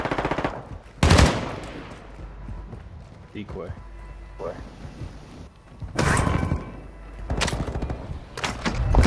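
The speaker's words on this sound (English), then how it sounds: "I hear gunfire, though. The decoy grenade." Decoy grenade in Call of Duty MWII Resurgence throwing out bursts of simulated gunfire, loud rattling volleys at intervals, with players talking over and between the shots.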